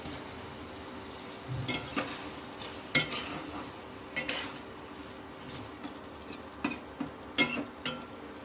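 Prawns fry in a malaikari masala of onion, ginger and cumin pastes with red chili powder, a low sizzle broken by scattered clinks and scrapes of a utensil stirring against the pan.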